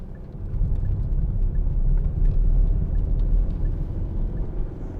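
Steady low rumble of a 2013 Hyundai i40 1.7 CRDi diesel driving on the road, a constant cabin drone with road noise and no talking.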